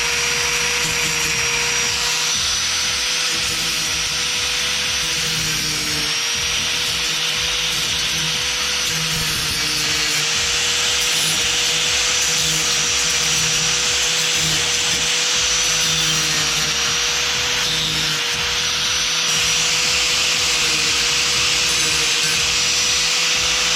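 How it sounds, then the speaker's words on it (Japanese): A grinder works down spiky metal parts on a crushed amphibious vehicle recovered from a snow-damaged barn, giving a loud, unbroken abrasive whine and rasp that runs steadily throughout with no speech. "グラインダーで"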